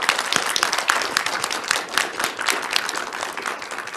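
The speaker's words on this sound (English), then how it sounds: "if we can give them a round of applause" Audience applause for three panellists at a parliamentary library symposium, dense scattered clapping with sharp individual claps, fairly close and steady for the whole stretch.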